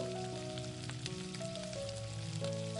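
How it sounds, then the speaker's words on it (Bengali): Fish roe fritters fry in oil over a medium gas flame, a steady crackling sizzle with a soft hum underneath and no voices. "বড়াগুলো ভাজার সময় গ্যাসের ফ্লেমটাকে মিডিয়ামে রেখে বড়াগুলোকে গোল্ডেন ব্রাউন করে ভেজে নেব"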